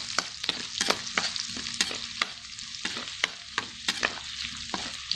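Ginger sautéing in a pan for fish escabeche, a steady sizzle broken by quick, rhythmic scrapes and taps of a spatula stirring close up, with no talking.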